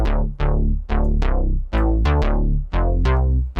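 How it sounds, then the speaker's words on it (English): Moog-style retro 80s synth bass playing a short pulsing riff of eight or so punchy, buzzy notes with quick decays, loud and up close, with no one talking. "It's like this Moog retro 80s bass sound that you could get from a whole ton of different plugins, and it sounds like this"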